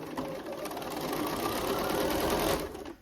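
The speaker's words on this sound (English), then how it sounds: "So let's go back to the machine and stitch these." Sewing machine stitching a fabric lining, a fast continuous mechanical whir and needle chatter running close and steady for a few seconds before stopping abruptly.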